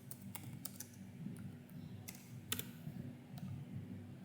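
Typing on a computer keyboard while building a calculator app, a steady run of sharp light key clicks with a few louder taps, close and alone over a quiet hum.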